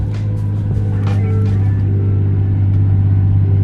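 A Nissan R33 Skyline fitted with a Nismo two-way differential drives along, its engine a steady, loud low drone with a firm rumble and slight throttle swells throughout.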